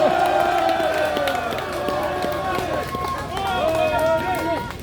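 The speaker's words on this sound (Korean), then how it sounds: "다시 한번 큰 박수 부탁드리겠습니다" Rally crowd applauds and cheers for the party leader, a loud, continuous wash of clapping with shouts and whoops layered over it, and amplified voices or music tones running through.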